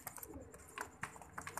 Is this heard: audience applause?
no